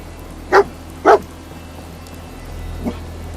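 Dogmeat, the canine companion in Fallout 4, gives two sharp barks in quick succession, moderately close, followed by a fainter third yip against a quiet game background.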